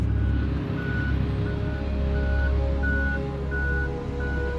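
An aircraft tug towing a large airplane at an airport gives off evenly spaced reversing beeps over a steady low engine rumble, moderately close, with no talking.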